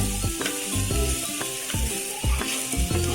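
Mashed ripe banana mixture fries in a pan while a utensil stirs it in repeated scraping strokes, roughly every half second, over a close, steady sizzle.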